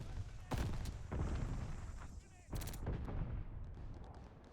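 Grenade blasts and gunfire in the World War II shooter Call of Duty: Vanguard, with sharp broadband bursts near 0.5 and 2.5 seconds over a dense, continuous rumble of battle noise and scattered shots.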